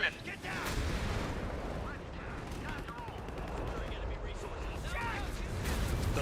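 An artillery barrage in Company of Heroes 3 rumbles continuously, with dense booming and gunfire-like cracks, mixed with voices and game chatter throughout.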